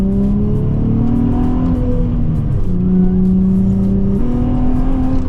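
A Nissan 350Z rolls slowly over gravel at about ten miles per hour, its engine droning steadily and loud up close with gentle pitch shifts as it eases along, plus faint crunching and ticking above.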